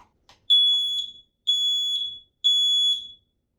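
Three loud, piercing high-pitched beeps from an X-Sense 10-year smoke alarm test button, each lasting under a second with short gaps, close by.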